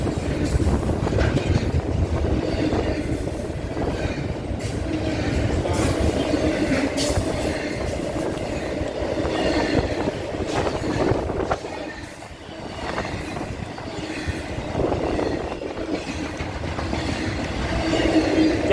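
Freight trains roll past at Colton, a loud, continuous rumble of wheels and railcars with clattering and faint squeal near the track, unbroken by speech.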